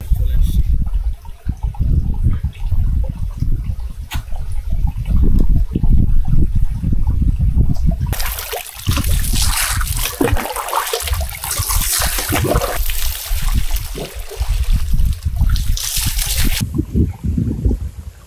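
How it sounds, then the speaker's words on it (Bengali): Water falls at a waterfall bathing spot in Kolmakanda, Netrokona. A low, rumbling splash comes first, then a loud, broad rush of pouring water fills the rest, close and steady. "এইখানে পানি পড়ে প্রচুর"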